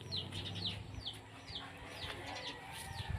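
Farm chickens cluck and call in a steady series of short, bright bursts, repeating roughly every half second over a low background rumble, close by and fairly loud throughout.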